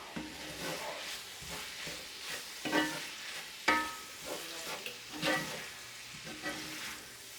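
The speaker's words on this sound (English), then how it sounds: "I got them down on a medium-high heat, and I'm going to continue to stir" A sausage and egg hash fries over medium-high heat in a pan, a quiet, soft sizzle broken by intermittent scraping stirs, with occasional sharper clinks of the utensil against the pan.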